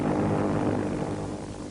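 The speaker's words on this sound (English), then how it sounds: "The Japanese carrier-based planes sped to the attack" Japanese carrier-based warplanes flying in to attack Midway, a steady droning engine roar that fills the whole stretch without breaks.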